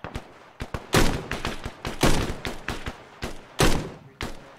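Rapid bursts of gunfire in a tactical military video game ring out close and loud, single shots and short volleys irregularly spaced over a few seconds.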